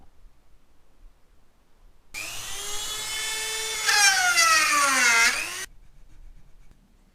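A high-pitched power tool cuts the fipples of wooden Ethiopian washint flutes, a steady close whine that strengthens midway and bends downward in pitch as it bites before stopping abruptly.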